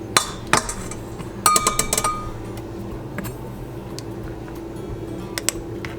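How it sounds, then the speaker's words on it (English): A metal fork clinks against a mixer bowl while fluffing flour, a few sharp bright taps clustered early, then quiet scraping with occasional light ticks. "I just use the back of the fork I fluff the flour with to top that off"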